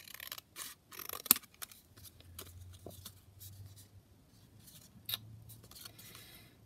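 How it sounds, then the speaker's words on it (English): Scissors trimming the edge of a paper sheet for a scrapbook page layout, giving several short, close snips and scrapes in a quiet room with a faint low hum underneath. "Let me just trim it at the edge."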